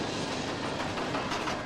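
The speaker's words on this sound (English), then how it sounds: "Once the train goes over the top, gravity alone will carry it back." Roller coaster train running along its track at Pleasure Beach Blackpool, a steady broadband rumble and rattle that holds at an even, fairly loud level without letup, with no voices.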